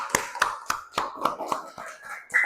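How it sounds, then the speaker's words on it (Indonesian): A few people in a classroom clap for a student group: sparse, separate claps at a steady rhythm, close and fairly quiet, with faint voices underneath. "Kita beri tepuk tangan untuk kelompok 1."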